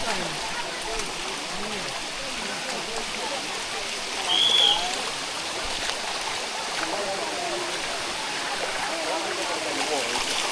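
Water rushes steadily over the grippy limestone rock of the Sticky Waterfall near Chiang Mai, a continuous moderate wash of flowing water with a brief high bird call partway through.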